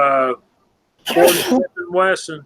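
A man sneezes once, sharp and close, in the middle of casual talk about gun calibers, with speech just before and after.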